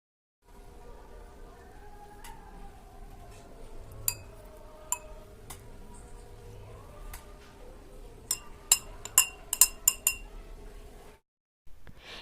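A teaspoon adds chia seeds into a glass while making a fruit chia seed salad, giving a series of sharp, close metallic clinks that cluster in quick taps toward the end over a quiet background.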